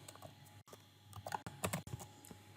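Quick, irregular keystrokes on a computer keyboard, close and fairly soft, with a few short pauses between bursts of clicks while entering code.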